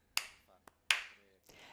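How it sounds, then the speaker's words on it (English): Three sharp hand claps in a Tibetan Buddhist teaching setting, struck singly with pauses between them, the last one softer and followed by faint room noise. "we clap our hands 3 times"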